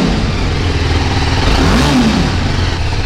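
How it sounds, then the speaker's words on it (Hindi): A TVS Apache RR 310 sport motorcycle engine revs loudly close up, a raspy roar that swells and falls back, with no voices. "कंप्लीट सुपर बाइक टाइप का जो साउंड निकलता है रेव करने के बाद"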